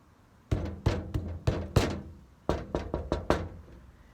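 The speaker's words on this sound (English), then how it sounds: "There is a knocking." Someone knocks on a tree trunk in a forest: one group of five hollow knocks, a pause, then five more in quick succession, loud and close.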